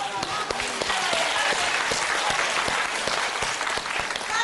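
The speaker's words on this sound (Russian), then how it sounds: "И вот здесь должны быть аплодисменты," An audience bursts into continuous, close applause on a talk show, a thick wash of many hands clapping with a few sharper individual claps standing out, and a voice faintly underneath.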